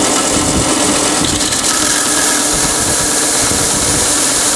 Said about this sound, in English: What I'm doing here is taking a little bit off with the sander.